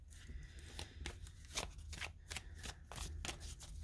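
A deck of small spirit animal cards being shuffled by hand, with repeated soft riffling flutters and slaps in an uneven rhythm, close up and fairly quiet over a low background hum.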